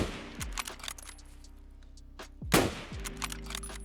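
A Mosin rifle in the Escape From Tarkov video game fires two sharp, booming shots a couple of seconds apart, each followed by a decaying echo and mechanical clicks of the bolt being worked.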